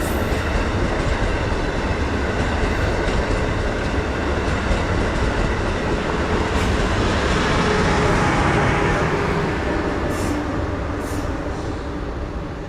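Metro North train 6861 is pushed by a droning Jeep locomotive as it eases westbound into South Norwalk station. The sound is a long, steady, loud rumble and engine drone with faint rail clatter and brief high squeaks near the end.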